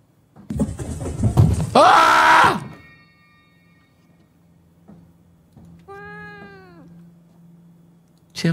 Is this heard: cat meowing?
yes